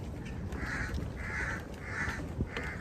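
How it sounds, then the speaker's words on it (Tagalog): Several crows caw in a steady series of four harsh calls, moderately distant, over a low background rumble. "Eh, sobrang dami na ng uwak."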